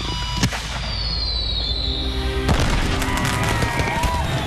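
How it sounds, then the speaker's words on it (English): Fireworks launch with a sharp boom followed by a second heavier blast a couple of seconds later, over a steady outdoor rumble and a rising whistle from a shell climbing into the sky. "The first fireworks of the night launch on cue."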